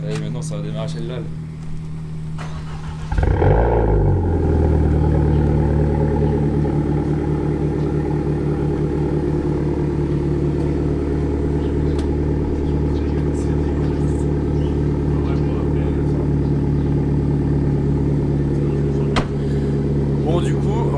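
A car engine cranks and catches about three seconds in, then settles into a loud, steady, close-up idle rumble that holds for the rest of the clip, with faint background voices before it fires.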